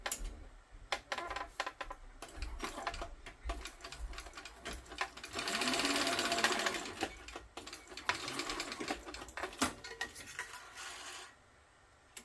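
Sewing machine stitching along the bottom edge of a small fabric mini wallet, running in steady bursts with short pauses and faint handling noises, close and fairly loud with no talking.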